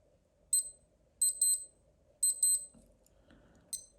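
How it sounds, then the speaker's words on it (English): Casio digital watch alarm sounding in short bursts of thin, high electronic beeps, three quick clusters of rapid pips with pauses between, close and clear, followed by a couple of faint handling clicks. "And there's your alarm. I think this one here is quite loud."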